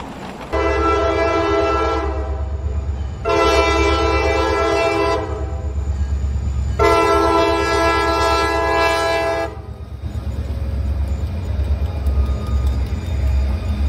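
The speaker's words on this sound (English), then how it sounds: "Trains communicate through a series of patterns within their horns." A train horn blasts three long sustained tones separated by short gaps, loud and close over the low rumble of the passing train, with no voices.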